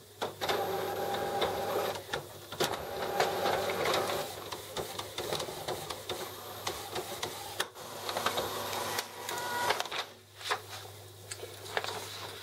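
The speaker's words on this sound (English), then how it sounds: "Maintenance, print nozzle check." An Epson WF-7210DTW inkjet printer runs a nozzle check print, with a steady mechanical whir, repeated print-head passes and sharp clicks and clunks, loud and close with no talking.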